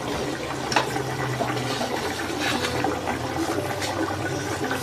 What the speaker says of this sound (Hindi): अपने चावलों का पानी निकालने लगे हैं हम।